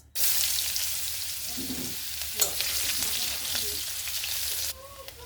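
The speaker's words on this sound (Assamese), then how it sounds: "মোৰ পিঁয়াজখিনি ফ্ৰাই কৰা হৈ গৈছে।" Onions fry in the oil left from frying eggplant, with cumin seeds and a dried red chilli, giving a loud continuous sizzle with occasional stirring scrapes, then dropping to a quieter hiss near the end.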